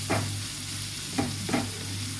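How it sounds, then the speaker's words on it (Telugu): Onion pieces go into sliced bitter gourd frying in oil, giving a steady sizzle broken by three scraping stirs of a spatula in the pan. "కాకరకాయ ఫ్రై అయ్యాక అప్పుడే ఉల్లిపాయ ముక్కలు వేసుకోవాలి"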